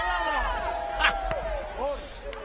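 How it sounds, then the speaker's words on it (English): Fijian supporters in a rugby sevens stadium crowd cheering a Fijiana women's team, a broad steady roar with whoops and rising shouts, loud and continuous with a few sharp claps. "the Fijian supporters in the crowd loving the way that their Fijiana team are playing this wonderful"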